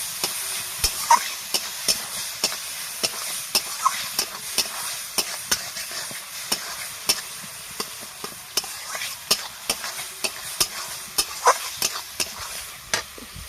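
Pointed gourd filling is stirred and fried in a pan: continuous sizzle with frequent, sharp scrapes and clacks of a spatula against the metal at an uneven, busy rhythm, heard close.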